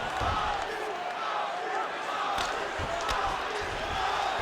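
A virtual arena crowd roars in the EA Sports UFC 5 fighting game as the fighters scramble back to their feet, a steady wash of cheering with a few dull thumps and faint commentary underneath.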